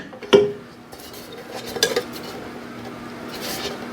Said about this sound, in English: And that goes in so you basically mount it sideways.